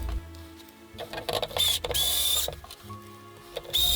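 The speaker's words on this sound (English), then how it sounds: "Put the pod back into the fixture, turn it over, and replace the screws." Screws go back into an LED grow light pod fixture with close, mechanical ratcheting and clicking, a few short bursts of turning and handling noise with no speech.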